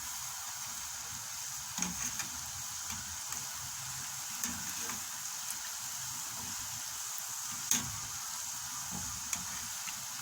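Donuts frying in hot oil, a quiet, steady sizzle with scattered small pops and crackles throughout, alone without talk.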